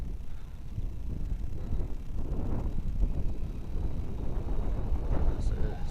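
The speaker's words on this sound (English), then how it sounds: "Like I said, it's kind of windy here." Low rumbling wind buffeting the microphone in steady gusts outdoors, a faint high tone and distant sounds underneath.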